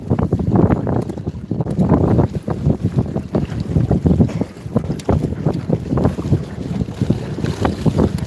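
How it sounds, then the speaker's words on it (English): Strong wind buffets the microphone on open water while fishing from a 14.1 inflatable boat in Alexandria, Virginia, with loud, gusty rumbling bursts rising and falling continuously and faint water movement underneath. "It's probably mostly the wind working against me"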